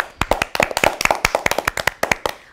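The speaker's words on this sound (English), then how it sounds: "Let us all clap for Purva." A small class claps for a student in a classroom, a handful of close, sharp, uneven hand claps in a quick irregular rhythm lasting a couple of seconds.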